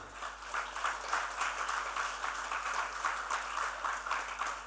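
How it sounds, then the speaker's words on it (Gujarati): A crowd applauding steadily at a religious festival gathering, a dense wash of many hands clapping at once, fairly close and sustained for several seconds. "આપણે તાળીઓ તો પાડી દીધી"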